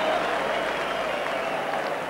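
Rugby sevens crowd at the Middlesex 7s applauding a try against Harlequins, a dense, loud wash of clapping and cheering that continues without a break throughout.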